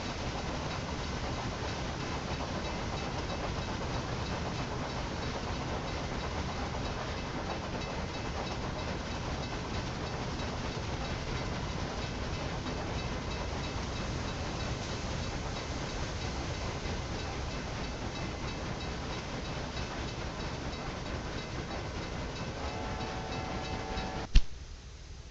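Cargo train rolling along in Railway Empire, a steady dense rumble with rhythmic clatter of wheels and wagons holding level throughout, ending in a brief sharp click before it cuts off.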